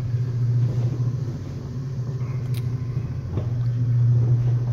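An RG Mitchell NASA rocket kiddie ride running, giving off a steady low motor hum and rumble that lasts the whole time, with a faint brief click partway through.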